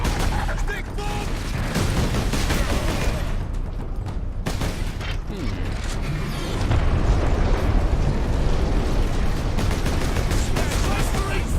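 Stick bomb exploding amid battle in Warhammer 40,000 Space Marine: heavy booming blasts and rattling gunfire crowd a dense, loud combat soundscape, with gruff in-game voices shouting over the din.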